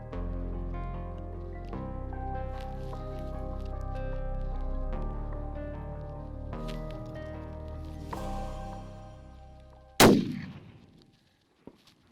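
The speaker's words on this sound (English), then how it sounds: "I'm gonna take my time. I'm gonna shoot him." During a Coues deer hunt in southern Arizona, a single loud, sharp rifle shot cracks out near the end and rings off into a fading tail, following a stretch of background music.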